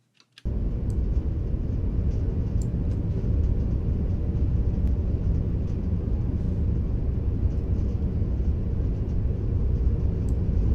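A continuous, even roar with a deep rumble fills the space, like steady engine and air noise inside an airplane cabin, with no voices; made with the Audio Brewers Astrometry sound design plugin.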